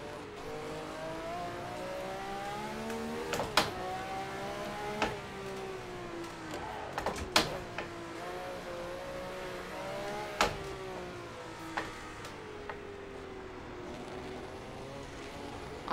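Ferrari 312 race car in a video game at Zandvoort, its engine note rising and falling through gear changes and revs, with sharp clicks and bumps over a steady hum.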